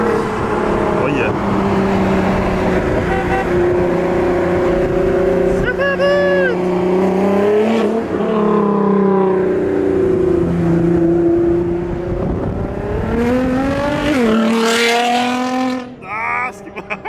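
A Nissan GT-R R35 sports car passing by outside, its loud engine roaring and revving through rising and falling gear pulls before fading, with people talking excitedly over it throughout.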